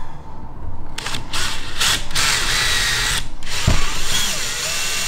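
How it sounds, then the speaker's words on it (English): Power drill driving a bolt into a camper van roof while mounting a 350-watt off-grid solar panel kit, a loud continuous whirring with several short bursts and pauses, close up and alone. "And now let's screw one of these in."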